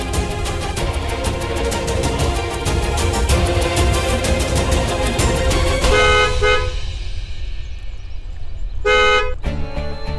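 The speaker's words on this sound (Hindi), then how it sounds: "गाड़ियों की आवाज, लगता है मेन रोड आसपास ही है।" Busy main road traffic with repeated car horn toots and honks sounding loud and close, several horns overlapping in a steady stream, then a few sharper honks near the end.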